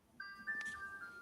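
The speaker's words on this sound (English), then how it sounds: "The creeper and the ice cream truck just rolled by." A faint, tinny ice cream truck chime drifts in briefly at a distance, thin sustained tones over a low background hum.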